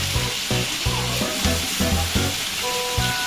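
Vegetables for a large 10 kg veg biryani frying in a big pot, a steady loud sizzle broken by repeated rhythmic scraping and thumps of stirring.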